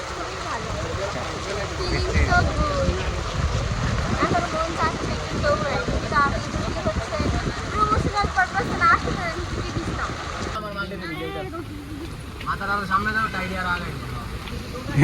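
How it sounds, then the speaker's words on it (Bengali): Heavy rain pours outdoors as a steady, loud broadband wash with splashing water throughout, and the texture shifts partway through as people talk and call out over it. "বৃষ্টিতে ভিজে ভিজে যাইতেছি পানি পড়ছে"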